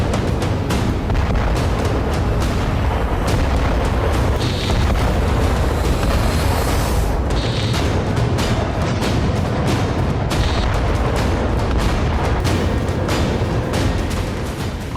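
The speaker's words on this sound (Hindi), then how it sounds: "ताबड़तोड़ मिसाइलों के अटैक से यूक्रेन धुआं धुआं हो गया" Missile strikes hitting Ukraine produce a loud, continuous roaring rumble with repeated heavy booms and crackling bursts layered through it.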